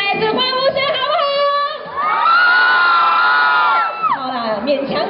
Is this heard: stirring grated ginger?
no